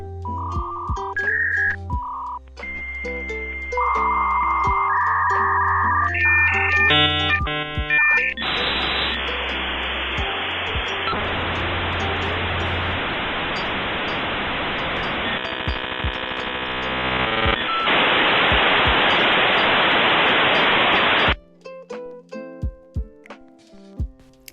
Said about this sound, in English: The modem is adjusting its frequency to the other side, like handshaking.